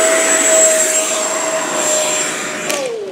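An E-flite F-18 Hornet RC jet roars loudly and close by with a steady, high electric ducted-fan whine that holds for a few seconds, then drops in pitch as it passes.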